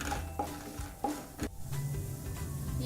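Urad dal and peanuts frying in hot oil in a pan, a steady sizzle with a few scraping stirs of a spoon, close up and with no talking.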